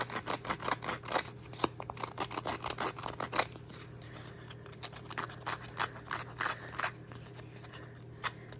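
Paper edges are distressed with a Making Memories razor tool, giving a rapid series of close, dry scraping and rasping strokes in quick bursts with short pauses between them.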